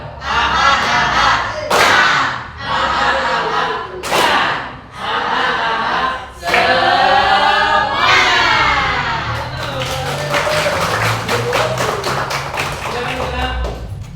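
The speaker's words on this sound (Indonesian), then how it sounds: "Tepuk semangat." Students doing a rhythmic Indonesian spirit clap (tepuk semangat) produce loud patterned bursts of group clapping mixed with children's chanting and shouting, ending in sustained crowd cheering.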